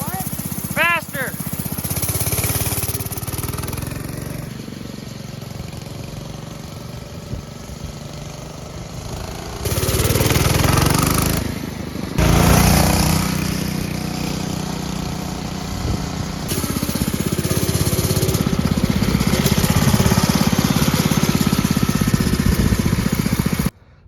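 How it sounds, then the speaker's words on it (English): A Predator 212 engine on a vintage flat track go-kart runs loud and close, rising and falling as the throttle is blipped and held, with voices talking over the rough mechanical drone. "the Predator works really well on this go-kart"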